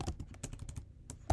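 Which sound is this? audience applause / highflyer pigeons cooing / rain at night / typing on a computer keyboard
typing on a computer keyboard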